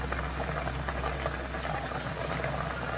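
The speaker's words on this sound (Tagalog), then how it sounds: "At ayan, kumukulo na siya." Tinola chicken soup made with coconut milk boils steadily in a pot, a dense continuous bubbling and steamy hiss with no talk over it.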